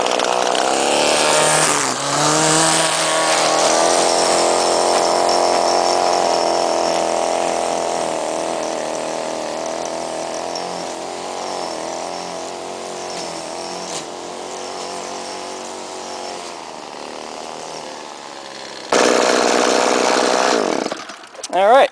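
A Shindaiwa 22F string trimmer with a Speed Feed head runs at a steady high-pitched two-stroke whine, easing off slowly over time, with a sharp rev and cutoff near the end.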